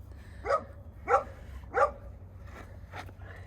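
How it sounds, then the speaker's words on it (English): A pet dog barks three times at steady intervals, distinct and fairly close, followed by a couple of softer yips, over a low indoor hum with no talking. "I'm gonna go let my dog out so he doesn't bark the whole time."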